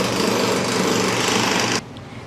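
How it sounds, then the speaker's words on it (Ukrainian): Loud, continuous rattling hammering from nearby construction work demolishing steps, heard from inside an apartment, cutting off abruptly near the end to a quieter background hum. "Бо вже сил з цим будівництвом немає, ще поруч не закінчили, а вже навпроти розпочали щось."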